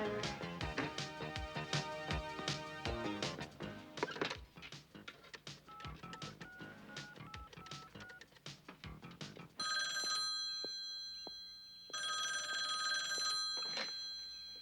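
A telephone rings during an indoor scene in a drama series, heard as two bursts of bright electronic ringing after music fades out, fairly clear and close, with no speech over it.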